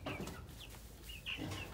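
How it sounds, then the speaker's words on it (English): Clucking from an Orpington egg layer and a Cornish cross meat chicken at seven weeks old, short soft calls coming in a few separate bursts close by over a steady low background. "An egg layer and a meat chicken. An Orpington and a Cornish cross."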